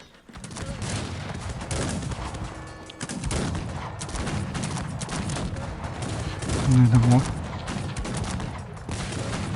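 Musket volleys crackle in dense, continuous fusillades during a 2v2 Cossacks 3 battle with Bavarian musketeers, loud throughout, with a player's brief voice over the shooting.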